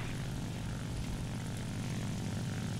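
Steady, loud drone of an IL-2 ground-attack aircraft's piston engine and propeller in War Thunder gameplay, a continuous even roar with no pauses and no speech.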